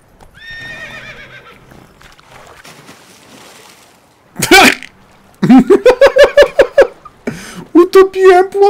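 In The Witcher 3, the horse Roach snorts and neighs loudly and close, with hooves clopping in quick bursts and splashing through water, while someone speaks briefly in between.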